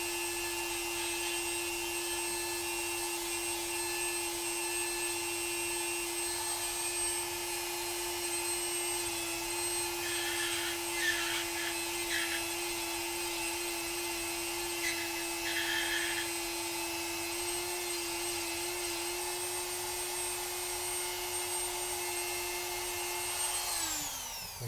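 A small rotary tool or sander shaves down the plastic elbow peg of a Mezco Green Arrow action figure, giving a steady high-pitched motor whine that runs close and unbroken, with brief harsher grinding bursts as the peg makes contact.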